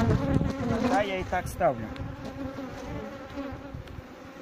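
Wasps buzz around frames at an apiary during a late-June honey harvest from hive supers, a faint insect drone beneath someone speaking close by.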